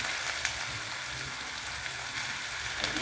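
Tomatoes and green chillies sautéing with browned onions in a pan for prawn thokku, a steady soft crackling sizzle close by, continuous and even with no talking.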